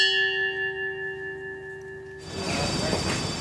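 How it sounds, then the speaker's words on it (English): A single memorial bell toll for bombing victims in Omagh rings out with a clear ringing tone that slowly fades, then gives way abruptly to a loud wash of broadband outdoor noise. "Every one of them acknowledged by the toll of a bell."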